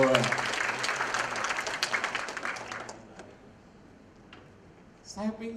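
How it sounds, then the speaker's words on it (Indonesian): A church congregation at a Sunday service applauds in praise. A busy burst of clapping fades after about three seconds into quieter room sound, and a voice starts speaking near the end. "Berikan tepuk tangan buat Tuhan."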